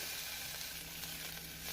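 Green chili hisses in hot oil in a pan, a steady close sizzle that holds evenly through the short stretch with no talking.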